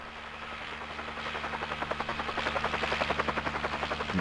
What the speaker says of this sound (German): Das war wieder voll weit weg, der Hubschrauber, ne?